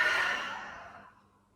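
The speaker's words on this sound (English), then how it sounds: "big noisy exhale as you forward fold" A long, loud breathy exhale during a yoga forward fold, starting strong and fading away over about a second, close and alone.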